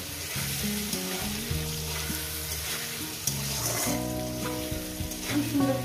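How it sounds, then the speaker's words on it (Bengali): Potatoes coated with a little turmeric fry in hot oil in a home kitchen for a Bengali fish curry, giving a steady close sizzle and bubbling with occasional stirring noises and no talk. "আলুটাকে আমি ভেজে নেবো, 2-3 মিনিট ভেজে নেবো।"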